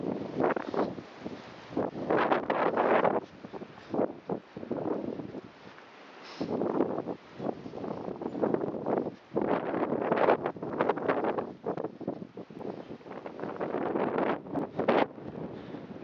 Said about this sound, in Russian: И ветер тоже становится жестче, хлеще.